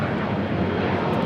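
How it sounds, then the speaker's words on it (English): Boeing Dreamliner arriving from Philadelphia and taxiing at LAX, its engines producing a dense, steady roar for a brief moment at moderate distance. "this Dreamliner coming in from Philadelphia will now be crossing over"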